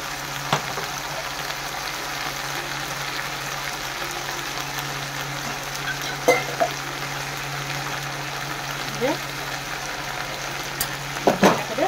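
Ginger-garlic paste sautéing in a pan for a prawn and okra curry, a steady soft sizzle with occasional utensil taps and scrapes, close by, no talking.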